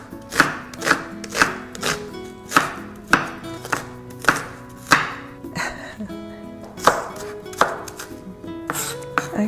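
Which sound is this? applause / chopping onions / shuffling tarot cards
chopping onions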